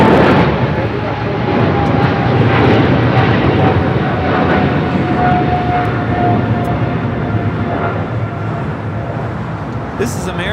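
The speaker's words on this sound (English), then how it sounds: "This is American Airlines 136 taking off to London Heathrow on a 777-300ER" An American Airlines Boeing 777-300ER heading to London Heathrow takes off from LAX, its engines producing a continuous heavy roar. The roar holds strong early and gradually thins toward the end, with faint talk in the background.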